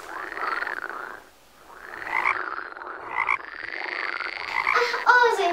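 A frog croaking in a series of loud, close, repeated calls with brief pauses between them, heard alone.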